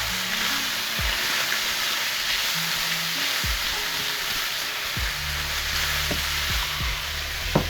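Onions and thyme fry in a hot pan with a bright, steady sizzle, while a spoon stirs and scrapes through them in several short, close strokes.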